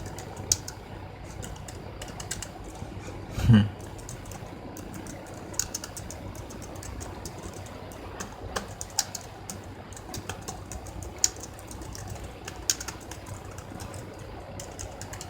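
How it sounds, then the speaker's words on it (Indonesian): Typing on a laptop keyboard after repair, a steady run of light, uneven key clicks across the whole stretch with one louder thump early on, heard alone with no talk. "Tapi sebelumnya saya memang tidak biasa ya ngetik di laptop ya."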